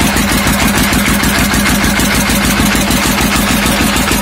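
A used diesel engine drives a secondhand water pump irrigating rice paddies, running loud and close with a steady, fast, chugging pulse that holds unchanged throughout.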